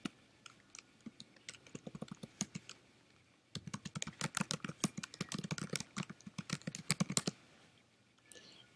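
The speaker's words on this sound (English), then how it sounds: "let's type in my blog site" Close, quiet typing on a computer keyboard: irregular bursts of rapid key clicks, a brief pause, then a denser run of keystrokes before trailing off, with no talk.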